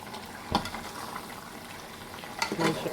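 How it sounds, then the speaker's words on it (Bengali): Mutton curry fries and sizzles in a pan as it is stirred, a steady close crackle broken by two sharper scraping bursts of the spoon against the pan, with no talking. "মাংসের এই অবস্থায় একটু নেড়ে দিতে হবে।"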